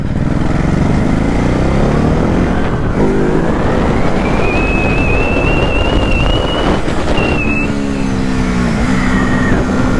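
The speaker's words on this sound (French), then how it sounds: "Je vous laisse profiter un peu du son de la moto." A Ducati Hypermotard RVE motorcycle ridden through town, engine loud and close with rising and falling revs as it accelerates and shifts, and wind buffeting the microphone throughout.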